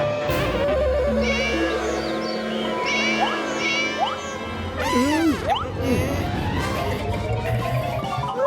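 A pack of cartoon cats yowls and meows in a chaotic overlapping chorus, with rising and falling cries, crashes and a busy music bed behind them, loud and continuous.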